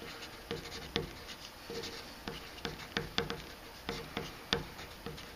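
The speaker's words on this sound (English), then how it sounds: "So up here I'm going to write the average deviation" Marker or chalk writing on a classroom board during a statistics lesson, with scattered taps and short scratchy strokes in an irregular rhythm, moderately quiet and close, with no talking.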